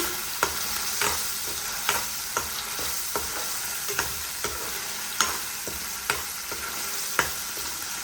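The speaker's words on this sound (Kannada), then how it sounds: "ಈ ಥರ ಫ್ರೈ ಮಾಡ್ಕೊತಾ ಇರಬೇಕು, ಇಲ್ಲಾಂದರೆ ಕೆಳಗಡೆ ಅಡಿ ಅಂಟ್ಬಿಡುತ್ತೆ." Egg curry masala sizzles in a hot pan as a spatula stirs and scrapes the bottom in a regular rhythm of sharp taps, close and continuous, with no voices.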